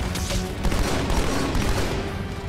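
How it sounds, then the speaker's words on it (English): Rapid gunfire in the video game Halo 2, a dense stream of close, loud shots rattling together for a couple of seconds with no talking. "Let me shoot."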